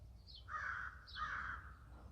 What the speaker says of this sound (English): So we can hear those sounds in the background. You probably can identify that those are crows.